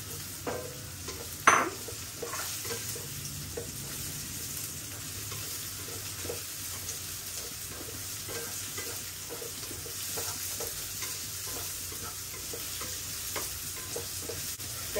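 Mushrooms dropped into a hot pan for mushroom chilly and stir-fried, a steady sizzle and frying hiss with scraping stirs and a clatter as they go in, continuing evenly throughout.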